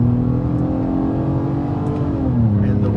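A 2009-2014 Nissan Maxima with a CVT accelerates at full throttle, giving a loud, steady droning engine note that holds almost constant pitch, then shifts slightly near the end.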